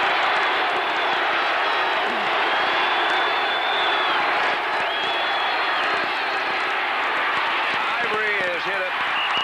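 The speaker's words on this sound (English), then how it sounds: "And again, the crowd starts yelling for that defense." A packed stadium crowd at a Dallas Cowboys versus Green Bay Packers NFL game yells and cheers for the defense, a steady loud roar with clapping and scattered whistles, a play-by-play voice talking over it.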